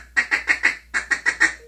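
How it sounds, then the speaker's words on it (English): Buck Gardner Mainstreet duck call blown in two quick runs of four and five sharp, close quacks, with a final short note at the end. "And quacks just like a duck."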